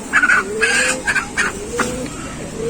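Chickens cluck and squawk repeatedly at a small poultry farm as birds are picked out and weighed, close and fairly loud, several short calls in quick succession.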